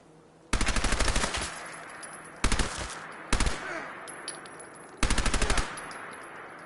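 Bursts of automatic gunfire from hostile fighters in a video game, four loud rapid volleys spaced a second or so apart with a few single shots between, close and harsh.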